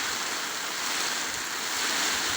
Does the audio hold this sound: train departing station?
no